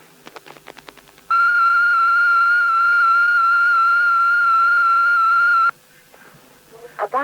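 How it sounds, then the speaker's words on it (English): Datel 600 modem tone for a binary 1 at 1200 bits per second on a 1971 British telephone line, a single steady high-pitched whistle held for about four seconds between short clicks. "A binary 1 sounds like this."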